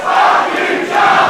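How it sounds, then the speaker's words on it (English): Wrestling crowd reacting loudly to a wrestler in a match, a dense, sustained roar of many voices filling the arena with no distinct speech. "Jarvis getting some feedback from the crowd"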